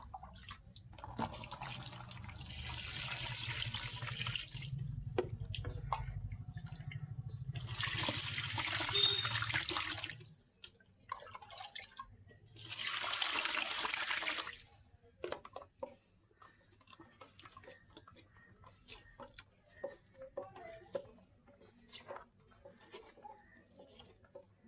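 Tap water runs in three separate bursts, each a few seconds long, as cocopeat is washed. Drips and small splashes fill the gaps, and birds call faintly outdoors.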